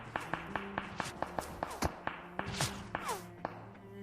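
Enemy gunfire in the mobile battle royale game PUBG Mobile cracks out as a rapid string of sharp, evenly spaced shots, close and punchy, with a few whizzing bullet sounds in between and no talking.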